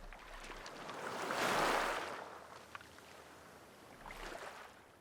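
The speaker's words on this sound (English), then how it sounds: "And you can hear the ocean waves, an ebb and a flow, a rising and a falling." Ocean waves swell and recede, a soft rushing wash that rises to a broad hiss and fades, followed by a second gentler surge, with no voices.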